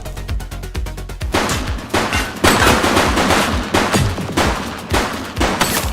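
Rapid gunfire in the video game The Precinct: a quick run of evenly spaced shots, then loud, dense bursts of automatic fire and blasts continuing without a break.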